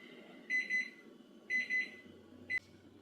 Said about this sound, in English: My kitchen timer so rudely interrupted.